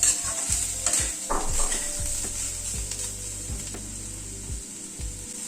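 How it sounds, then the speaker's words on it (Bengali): Grated coconut lightly frying in a pan, with a soft continuous sizzle under repeated scraping strokes of a spatula against the pan, close and fairly loud, no voices. "নারকেল কোড়াটা একটু হালকা করে ভেজে নেব"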